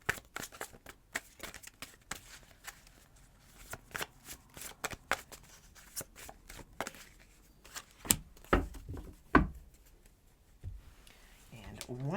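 A deck of angel oracle cards is shuffled in quick riffles and soft flicks, a close rapid patter with a few louder card slaps near the end, while a voice talks quietly over it.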